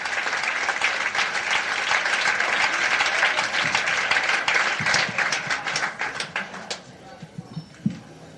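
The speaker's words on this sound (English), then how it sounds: "How about a big round of applause, ladies and gentlemen, the guy who's about to have his own TV special, Denny Johnston." A comedy-show audience applauds comedian Denny Johnston, heavy sustained clapping for several seconds that thins into scattered individual claps and dies out near the end, with a few faint voices underneath.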